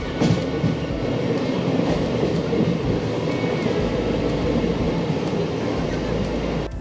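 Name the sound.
train running at night on Howrah-Bardhaman chord line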